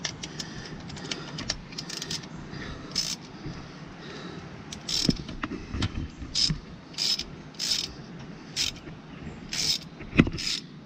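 A thread-chasing tool is worked back out of damaged threads, giving a run of repeated ratcheting clicks in short bursts, close and fairly crisp over a low mechanical rumble.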